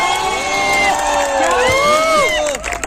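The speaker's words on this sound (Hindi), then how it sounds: "जोरदार तालियों के साथ स्वागत कीजिए मंच पर शैलेश लोढ़ा जी का।" An audience at a literary festival cheers and claps to welcome a poet onto the stage. Loud crowd noise is laced with rising and falling whoops and whistles, then tapers off near the end.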